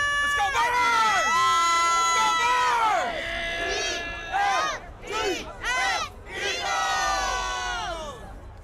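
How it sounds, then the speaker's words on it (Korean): A large crowd cheering and roaring at a Philadelphia Eagles victory parade, with loud waves of shouts and whoops swelling and falling close by, voices rising and overlapping continuously. "시민들의 환호에 도심 전체가 들썩이는 듯한데요"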